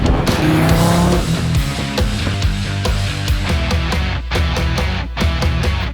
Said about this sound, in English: It's a twin 76 millimeter 9-liter engine with a sequential transmission.